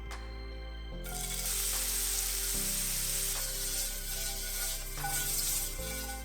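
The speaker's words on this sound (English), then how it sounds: "Sauté them on medium-high heat with a bit of sesame oil until they're softened but still have a bite to them." Vegetables sauté over medium-high heat in a pan with sesame oil, giving a steady, loud broadband sizzle with a low hum underneath that carries on without break and with no talking.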